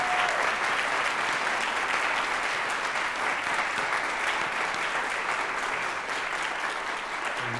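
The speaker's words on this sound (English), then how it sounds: "Could you give me another moment to recognize them with applause?" Sustained audience applause fills a conservatory student award ceremony, a dense, steady wash of many hands clapping at even loudness throughout, with no one speaking over it.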